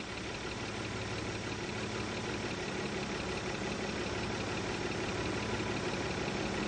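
A Mazda MX-3 engine idles during a tune-up, giving a steady, even rumble that holds unchanged throughout with no talking.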